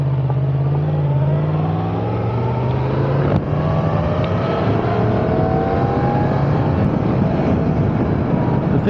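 A Yamaha MT-10 motorcycle accelerates in a loud, close engine roar with rising pitch sweeps as it revs through the gears, mixed with continuous wind rush.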